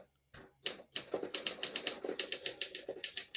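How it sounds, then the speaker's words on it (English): A 1958 Olympia SM3 portable typewriter, West German made, being typed on: a steady run of about fifteen sharp, close key strikes in an even rhythm, with a softer mechanical clunk near the start. "Beautiful typing machine."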